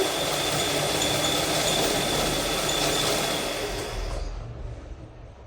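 A sewing machine zigzag-stitching the edges of lightweight sarees. The motor whirs as a dense, steady drone at close range, then trails off and stops near the end.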